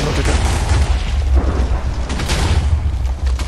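A cannon blast in Minecraft sets off a dense, continuous barrage of booming explosions, loud and close, rolling on for several seconds with deep rumble and crackling debris.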